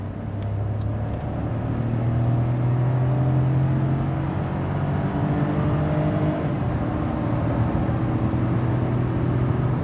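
Hyundai Kona 1.0 turbo, 120 hp, with a seven-speed dual-clutch gearbox and three people aboard, accelerating at full throttle; a loud, steady engine drone fills the cabin for the whole stretch.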